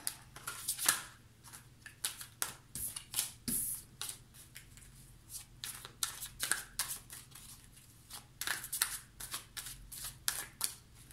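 Tarot cards being shuffled and laid out in quick, crisp rustling flicks and soft slaps, a steady run of close card riffles and taps with no voices.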